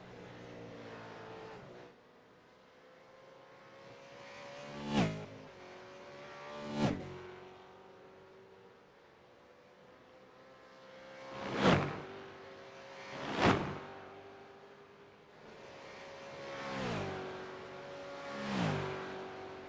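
V8 Supercars race cars sweep through the carousel at Road America, a steady engine drone from the nearest car with several other cars whooshing past in quick sharp passes, fairly faint overall.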